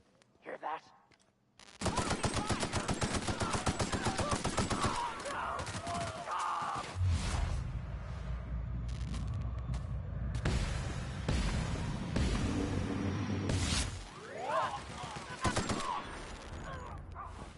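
Rapid full-auto gunfire in The Outer Worlds video game, loud dense bursts of shots rattling for most of the stretch with brief pauses, plus a few sharper impacts near the end.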